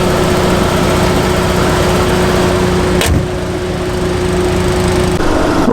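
A 1989 Chrysler LeBaron turbo convertible cruises on a highway with a steady engine drone and road roar. The noise stays loud and constant, dips briefly midway and then resumes.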